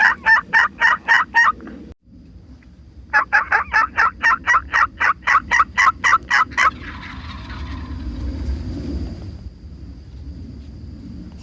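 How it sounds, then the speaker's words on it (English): Wild turkey gobblers gobble in rapid rattling bursts, one volley, a brief pause, then a longer run of repeated gobbles, fairly close and loud. A low rumbling outdoor background follows once the calls stop. "The gobblers strutting, fighting, chasing each other."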